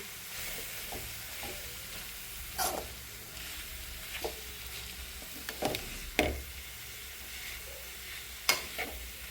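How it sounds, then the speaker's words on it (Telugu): Grated carrot stirred in hot oil in a pan, a steady soft sizzle with scraping and clacking strokes of a spoon or spatula every few seconds, close up, no talking. "క్యారెట్ తురుము నూనెలో బాగా కలిసేలాగా కలుపుతున్నా"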